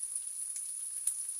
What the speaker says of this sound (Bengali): পেঁয়াজগুলো নেড়ে চেড়ে ভেজে নিলাম